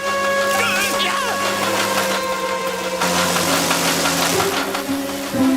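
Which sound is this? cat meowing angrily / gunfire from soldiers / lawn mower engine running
lawn mower engine running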